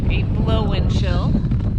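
Steady wind buffets a microphone on the summit of Mount Jefferson in winter, a continuous low rumbling roar throughout, with a voice speaking over it.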